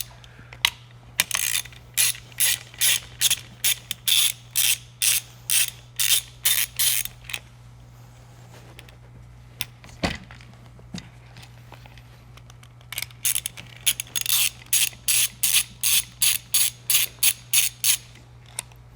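Wear pads being worked off an Eaton Carter heavy-duty ground fueling nozzle, giving two long runs of rapid, regular ratchet-like clicks with a brief quiet gap between them, close and fairly loud with no talk.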